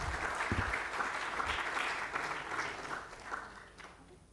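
Audience applause in a conference room, a steady wash of clapping from many hands that holds fairly even and eases slightly toward the end.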